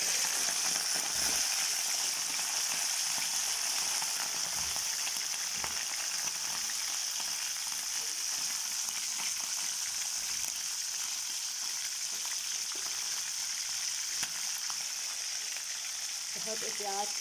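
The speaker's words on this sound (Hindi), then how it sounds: "बहुत तेज़ गरम ऑयल में हमने इस चिकन को डालना है" Chicken pieces hit very hot oil and fry with a loud, dense, continuous sizzle and crackle that holds steady throughout, close by, with no talking over it.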